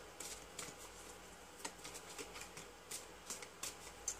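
Tarot cards are shuffled close up with quick, crisp riffling and soft tapping bursts, repeated unevenly over a few seconds, with no voices.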